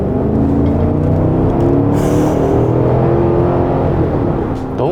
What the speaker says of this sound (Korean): 특히 이렇게 RPM을 높여서 가속할 때 이 가속하는 느낌은 우렁찹니다